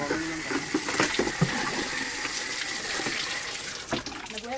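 Water runs from a tap in a steady, moderate stream, close by with small splashes and clatter, and someone speaks briefly over it.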